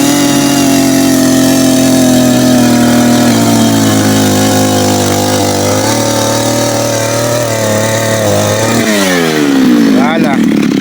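The small engine of a motorized auger, used to dig planting holes for a grafted avocado orchard, runs as a loud, steady drone, shifting pitch near the end as it revs, with voices talking over it.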